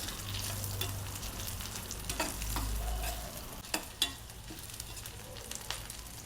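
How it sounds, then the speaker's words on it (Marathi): Vegetable masala frying in a pan as red chili is added, with a steady sizzle under repeated stirring and a few sharp spoon scrapes and clicks against the pan. "आता त्यातच आपण टाकून घेऊ लाल मिरची"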